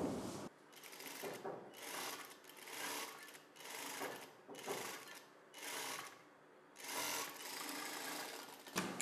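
A sewing machine stitches a blouse hand piece in rapid bursts, each run of whirring needle strokes stopping briefly before starting again, close and clear with no talk.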